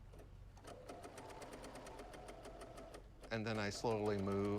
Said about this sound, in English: you can actually hear the machine whirring